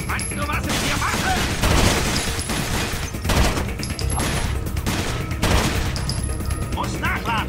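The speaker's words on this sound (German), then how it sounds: "Werde beschossen!" Gunfire in the video game Rainbow Six Vegas: a dense, continuous fusillade of loud shots and bursts crackles without pause, with distant booms layered through the fight.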